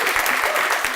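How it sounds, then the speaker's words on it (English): An audience at a worker co-op day event at the State House gives a round of applause, a dense, loud burst of clapping from many hands, close and steady throughout with no talk over it. "let's give Fuerza Laboral a round of applause."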